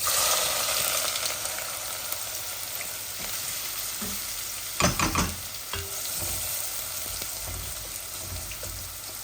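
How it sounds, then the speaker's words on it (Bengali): Sliced onions fry in a pan, a steady bright close sizzle with bursts of stirring scrapes and clatter around the middle, no voices over it. "এখন আমি ভাজা করব, দিকে সেম সেম পেঁয়াজ দিচ্ছি"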